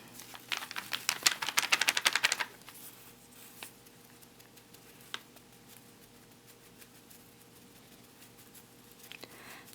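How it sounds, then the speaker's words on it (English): A paintbrush tapping paint onto a freezer-paper palette makes a quick run of close, crisp dabbing taps for about two seconds, then a few scattered soft taps in a quiet room. "So I'm just going to do a lot of tapping on my paper."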